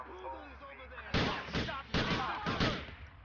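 Gunfire during a police shootout in the video game GTA IV: several loud, sharp bursts of shots come in quick clusters after a quiet second, close and alone.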